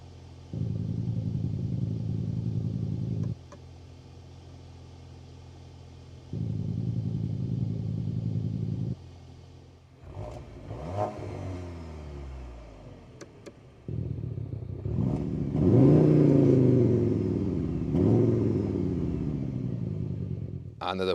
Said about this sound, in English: This turbo petrol engine, 4-cylinder, 265 horsepower now, though it's 20 horsepower more than the predecessor.